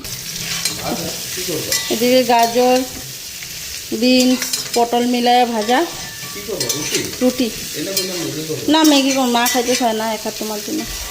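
Leftover rice with a little ghee sizzles and is stirred in a hot pan, a continuous crackling fry close by, accompanied by melodic tonal sounds in the background.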